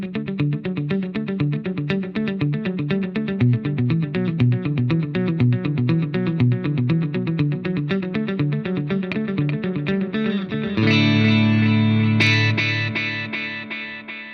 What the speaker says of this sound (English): Now this is actually quite a good sounding tape echo.